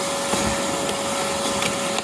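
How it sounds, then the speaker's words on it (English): Gutter vacuum roaring steadily up close, a continuous loud suction hiss with a constant whine, punctuated by faint rattles of debris being pulled in from a house gutter. "I'm shoving the vac in the gap and then just getting the trowel and just pulling it all in."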